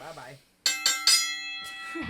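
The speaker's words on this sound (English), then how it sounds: "I'm ringing this bell." A small bell rung by hand on a podcast, three bright rings in quick succession then a fourth fainter strike, ringing tones decaying, with a voice talking briefly before and at the end.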